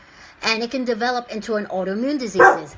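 A pet dog named Rockstar barks and whimpers at someone in an apartment hallway, a few close, loud, high yelping barks mixed in with someone talking.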